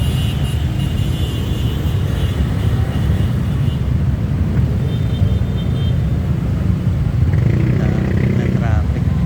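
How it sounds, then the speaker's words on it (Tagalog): Dense road traffic with many motorcycles, engines rumbling steadily and close by, a continuous broadband drone with some higher engine whine near the end and no clear gaps. "Na traffic. Daming mga motor."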